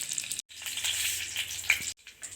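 Mustard seeds frying in hot oil in a clay pot give a bright, continuous sizzle with faint crackles, broken by two short silent gaps.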